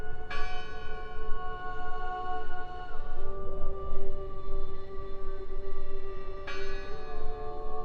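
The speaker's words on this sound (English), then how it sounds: "Listen! The bell! They're still in there!" A large bell in the video game Draugen rings out in two resonant strikes, one at the start and one near the end, each leaving a long sustained hum that fades slowly.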